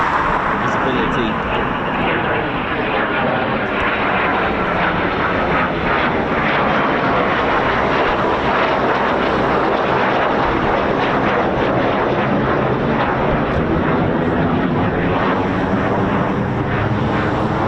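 An RAF Eurofighter Typhoon FGR4 fighter jet roars steadily overhead at an RAF station, a loud sustained engine rumble filling the whole stretch, with a voice talking over it.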